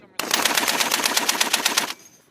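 An M2A1 machine gun fires on a live-fire range, a close, loud, rapid burst of about a dozen evenly spaced shots lasting under two seconds before cutting off.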